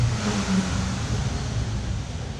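A Bentley W12 engine revs steadily and fairly close, a low, dense mechanical roar holding for a couple of seconds and easing slightly at the end, with no talking.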